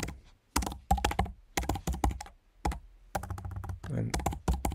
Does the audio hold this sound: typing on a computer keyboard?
yes